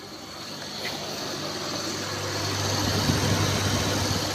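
A steady whir of a Toyota RAV4's radiator cooling fans running under an idling engine hum, growing slightly louder, with no talking.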